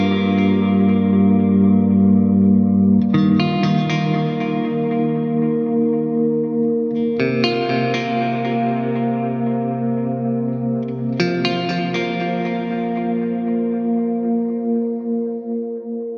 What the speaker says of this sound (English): This one kind of has like a really obvious delay sound coming after it.